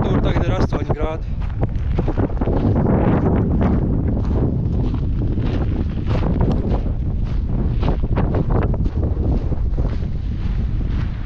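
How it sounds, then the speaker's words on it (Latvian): Strong wind buffets the microphone with a dense, roaring rumble that runs continuously and loud throughout, as a person speaks beneath it. "Vējš nenormāli pieņemās spēkā, tāpēc man ir ziemas cepuri."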